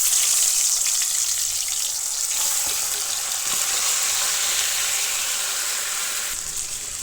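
Pieces of bottle gourd fry in a hot pan, giving a loud, close, continuous sizzle with faint stirring scrapes that eases slightly near the end; no voices.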